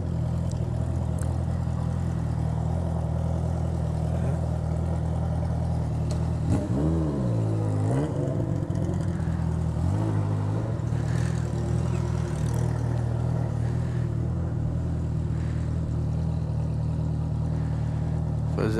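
A VW Golf car engine idling and revving while maneuvering, a steady low mid-pitched drone with a few swelling revs midway, close and continuous throughout with faint voices in the background.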